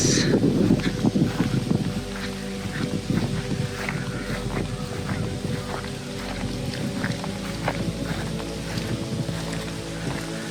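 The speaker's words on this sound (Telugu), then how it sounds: "గాలి సౌండ్ మీకు ఎలా వినపడుతుందో తెలియదు" Wind rumbles and buffets steadily outdoors, gusting louder at first, with scattered light ticks and a low hum underneath.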